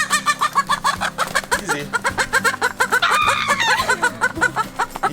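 A chicken clucks and squawks rapidly while being cornered and grabbed, loud and close, with agitated bursts rising to a frantic cackle midway, and a person speaks briefly.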